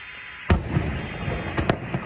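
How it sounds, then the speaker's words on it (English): A distant air defense explosion during a drone attack on a factory: one dull boom followed by a couple of fainter thuds over a constant background rumble, with no talk. "We can even hear another explosion of air defense."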